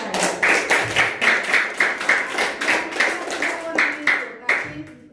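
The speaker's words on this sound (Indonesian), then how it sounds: "Tepuk tangan untuk mereka." A church congregation at a children's retreat closing Mass claps steadily in rhythmic unison, a loud, close run of even hand claps under faint murmuring voices.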